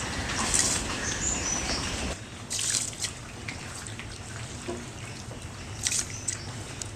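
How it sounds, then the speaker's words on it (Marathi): Rice goes into a pot of boiling water, a continuous wet bubbling and pattering that briefly dips and then carries on with a few louder splashes, close up and without voices. "आता हे जे तांदूळ आपण घेतलेत ते मी ह्या पाण्यामध्ये घालतो"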